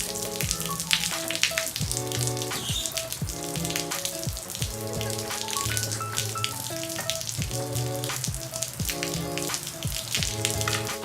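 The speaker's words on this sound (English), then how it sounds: "Installing parts in the rain." Steady rain patters and hisses continuously while car parts are installed outdoors, with music playing over the constant wet noise.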